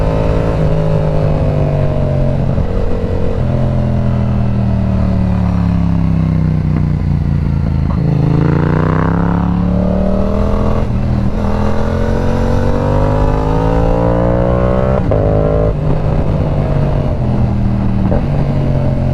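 A Yamaha R7 motorcycle rides along a road, its engine droning loudly and steadily with rising and falling revs and a sharp burst of throttle midway.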